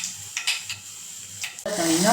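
Mustard seed tempering hits hot oil with a sudden, loud sizzle that bursts in near the end and holds, after a few quieter scrapes and faint voices.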